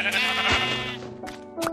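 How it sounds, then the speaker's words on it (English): Sheep bleating in the video game Minecraft: a loud, wavering bleat over a second long, then two shorter, quieter bleats, with no talk. "Got another sheep."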